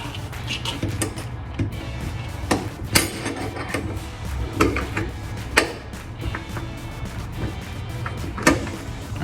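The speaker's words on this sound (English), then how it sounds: "Just gave it a few hits with a dull screwdriver on these tabs to get the retainer to lock into place." A dull screwdriver taps the tabs of a Holley in-tank retrofit fuel module retainer, producing a series of sharp, irregular metallic knocks close by over a low background hum.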